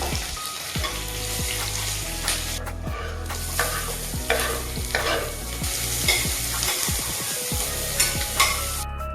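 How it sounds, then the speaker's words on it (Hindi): Oil sizzles and crackles in a pot as a tadka for dal while a spoon stirs and scrapes repeatedly, close by, with no one speaking. "मैं जनरली एक ही साथ तड़का दे के दाल चढ़ाती हूँ"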